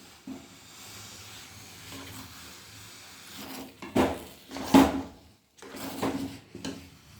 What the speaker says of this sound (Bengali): এই যে ফুটছে।